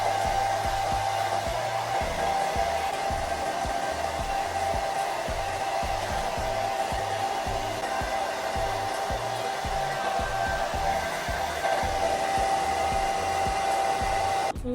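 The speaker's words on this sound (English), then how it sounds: "how you get your lace to melt is you want to blow dry it on low heat." A hair dryer on low heat blows steadily and loudly to melt wig lace during a wig install, with an even, unbroken whoosh that runs the whole time and cuts off right at the end.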